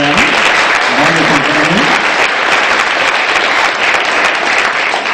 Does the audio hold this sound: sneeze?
no